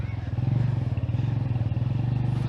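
A motorcycle riding through the railway quarters area in Dahod, its engine loud and close with a steady pulsing throb and rattling clatter throughout.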